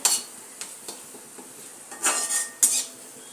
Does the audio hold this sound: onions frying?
yes